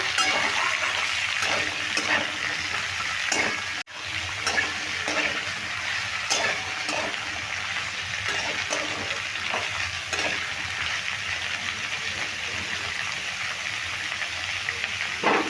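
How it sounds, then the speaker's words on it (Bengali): Papaya stirred in hot oil with spice tempering for a chana dal curry, a steady close sizzle and frying crackle with scraping stir strokes and a brief clatter of utensil on pan throughout. "পেঁপেটা দিয়ে খুব ভালো করে তেলের সঙ্গে ফোরনের সঙ্গে ভালো করে নেড়ে নেব"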